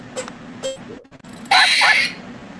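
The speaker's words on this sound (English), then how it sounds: "the squirrel that keeps shrieking in his window" A squirrel's shrieking call played back from a recording, a harsh, bright burst lasting about half a second after a few short faint chirps, alone with no talk over it.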